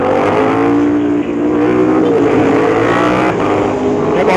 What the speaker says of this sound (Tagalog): Kotse.